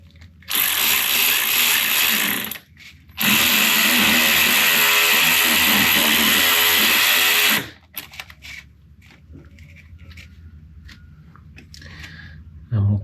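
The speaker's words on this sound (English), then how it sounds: "So clamp this one near the end so that we get that lip clamped on." A hose clamp is being tightened onto a Vauxhall boost pipe with a powered driver: two long, loud, steady mechanical whirring bursts, followed by quieter handling noises near the end.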